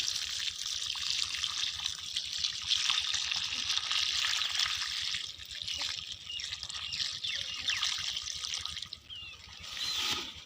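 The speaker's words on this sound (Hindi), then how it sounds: "तो अब इसको जो है पानी दे देते हैं।" Water splashes steadily onto soil around a newly planted garden plant, a continuous close trickling and pattering that runs for about ten seconds with no talk over it.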